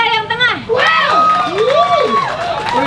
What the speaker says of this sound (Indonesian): Tepuk tangannya untuk si Teta yang tengah.